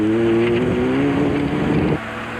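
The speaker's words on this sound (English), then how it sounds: "Rally stars KASSIE KOETZEE and WILEY Harrington were leading the Class 5 battle in the dealer team Toyota Hilux" A Toyota Hilux rally truck races past loudly, its engine note climbing and shifting through a strong revving drone before easing off near the end, with no speech.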